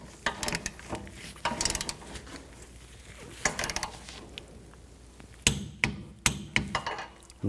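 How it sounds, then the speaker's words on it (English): A torque wrench tightens lug nuts on a 2004-2010 Toyota Sienna rear wheel hub, giving clusters of sharp metallic ratcheting clicks in short bursts with pauses between, close and fairly quiet. "And now you can torque these nuts to 41 foot-pounds."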